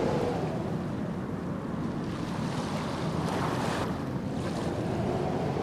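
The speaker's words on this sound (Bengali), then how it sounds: "তারপরই এক ভয়ঙ্কর ঝড় উঠল ওই নদী থেকে" Cartoon storm with roaring wind and surging river waves, a loud continuous rushing roar with swelling gusts and no voices.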